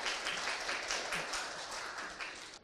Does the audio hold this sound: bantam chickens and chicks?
no